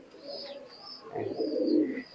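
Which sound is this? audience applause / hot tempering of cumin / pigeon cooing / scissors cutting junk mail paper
pigeon cooing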